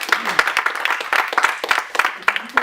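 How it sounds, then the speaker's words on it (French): An audience applauds at a client-feedback business presentation, with brisk overlapping claps close by and murmured voices mixed in for a few seconds. "on va applaudir Virginie déjà"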